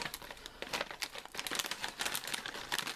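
Packet of lightly salted crinkle-cut crisps being handled, giving fast, faint, close crinkling and rustling in irregular bursts, with no voice over it.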